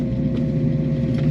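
A fresh 351 cubic inch V8 in a 1935 Ford slantback street rod idles through dual exhaust, a deep steady rumble with an even throb, close and alone.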